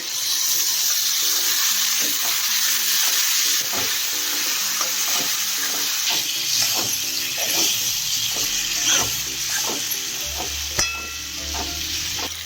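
Chicken liver dropped into spiced masala oil in a pan, with fenugreek leaves later: loud continuous sizzling close up, broken by repeated stirring scrapes and clinks of a spoon against the pan, no talking.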